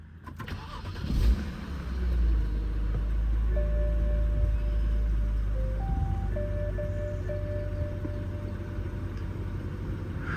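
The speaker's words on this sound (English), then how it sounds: "So to start it up, foot on the clutch, foot on the brake," Engine start on a 2009 BMW 328i xDrive with a 6-speed manual: a brief crank catches into a steady, loud idle that continues, with chimes from the car sounding over it.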